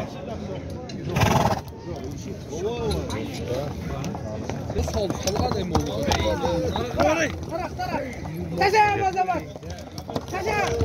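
Hooves clop and shuffle amid a busy crowd, with many voices talking over the movement of horses nearby.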